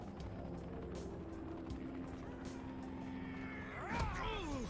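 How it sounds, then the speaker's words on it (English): The GRE helicopter arrives in Dying Light, its steady engine drone and rotor hum running throughout, with a rising, swooping tonal surge near the end as game sounds build. "Here comes the GRE helicopter."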